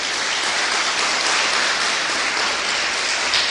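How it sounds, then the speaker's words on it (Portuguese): A church congregation at a Sunday service in Mauá claps loudly and continuously, a dense, unbroken wash of many hands close by. "Dê uma salva de palmas para Jesus."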